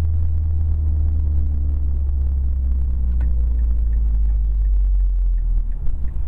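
A 2010 Mazda 3 GT 2.5 with aftermarket motor mounts rolls downhill, a deep steady engine and road rumble heard from inside the cabin, loud and continuous with little variation.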